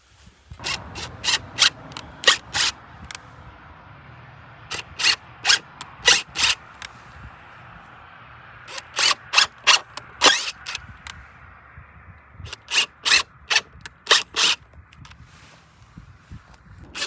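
A mounting bracket for an EV home charger is being screwed onto wood, heard as bursts of quick rasping, scraping turns that come in close, irregular clusters with short pauses between, and no talk.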